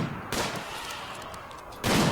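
Gunfire in the colony-building video game RimWorld, with two short bursts of shots at the start and end separated by a quieter stretch of background game sound, fairly faint overall.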